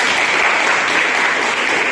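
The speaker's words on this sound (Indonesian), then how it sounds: "berikan tepuk tangan dulu buat teman-teman" Classroom applause for classmates, a dense, steady burst of many hands clapping together, loud and close.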